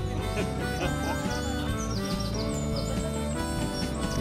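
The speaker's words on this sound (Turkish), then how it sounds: "Gürültüden uzak, kuşlar cıvıl cıvıl." Songbirds chirping and trilling in the mountain forest near Sümela Monastery in Trabzon, a dense, lively chorus of many overlapping calls at close to mid distance, with no talk.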